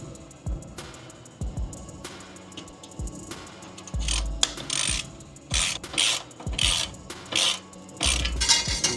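Downpipe nuts being tightened on an MK7 GLI exhaust, heard as repeated ratcheting and metallic rasping strokes in short bursts, close and fairly loud, with no talk.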